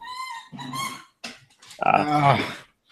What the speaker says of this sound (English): Is that Russell Martin, the puppy?